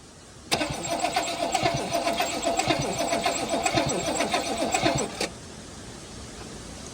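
A V8 engine in a Toyota Hilux, left sitting for a decade, cranks over for about five seconds with a rapid rhythmic starter chug, loud and close, then cuts out leaving low background noise.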